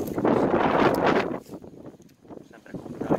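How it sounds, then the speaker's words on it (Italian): Gusty wind buffets the microphone outdoors in a vineyard during cordon pruning. It comes as a loud rushing blast that eases off, then returns as lighter buffeting. "C'è un po' di vento, quindi avrete pazienza se è un po' disturbata la cosa."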